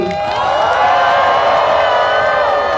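A large political protest crowd in Thailand roars and whoops loudly together, a sustained swell of many voices with shouting tones rising and falling, close and continuous throughout.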